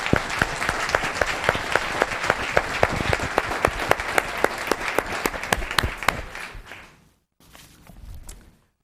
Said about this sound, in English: Another round of applause for Claire Strickland.